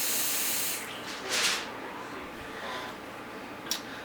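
Airy puffs drawn through a Fogbeast GEN2 vaporizer with the top airflow shut and only the restricted lower airflow open: a soft hiss swelling for about a second, then a fainter, briefer draw, close to the mouthpiece.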